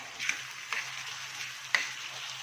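Chopped small tomatoes sauté in a pan for prawn tawa fry, a soft steady sizzle broken by a few sharp stirring scrapes, close by and with no one talking.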